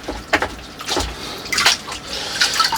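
Juniper roots are rinsed in a bucket of water, giving several separate sloshing, splashing bursts close by with short pauses between them.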